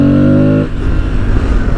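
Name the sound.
Aprilia Tuareg 660 motorcycle engine accelerating in second gear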